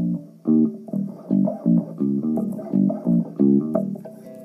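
Bass guitar plucking a 1-4-5 chord progression: a steady sequence of about ten close, loud notes in even rhythm, each note clearly separated by short gaps, with no talking.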